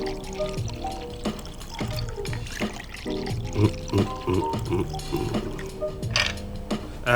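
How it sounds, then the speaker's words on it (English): Drinks for Absolut lime cocktails poured into glasses, with continuous liquid splashing and trickling over a steady background of music-like tones, alone with no talk. "So next we need to get our glasses and just pour in nice."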